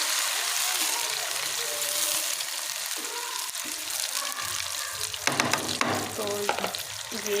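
Marinated tandoori chicken frying in a pan over high heat, with a dense, loud sizzle throughout and a flurry of clattering stir strokes toward the end, close up and without talk.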